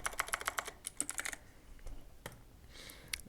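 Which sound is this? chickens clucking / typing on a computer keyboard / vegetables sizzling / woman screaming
typing on a computer keyboard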